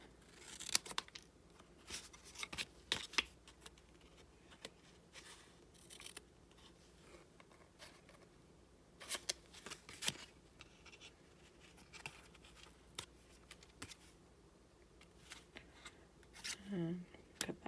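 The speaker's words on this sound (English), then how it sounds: "Snip these all at random angles." Scissors snipping paper strips for a shark-themed candy belly band, irregular quiet cuts and crisp paper rustles scattered over many seconds, close by, with soft talk at times.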